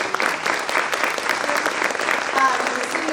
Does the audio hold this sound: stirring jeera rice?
no